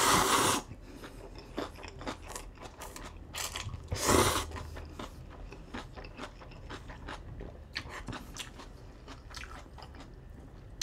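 Eating ramen with kimchi using chopsticks at a mukbang meal, heard as close crunchy bites and wet chewing, with a louder crunch burst near the start and another around four seconds, then steady soft mastication.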